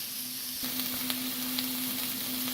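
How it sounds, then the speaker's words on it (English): Minced onions and garlic sizzle steadily in a pan, a constant bright crackle with a few small pops and a faint steady hum underneath. "You want to get the garlic and the onions in first, because that will brown them up and essentially get them going."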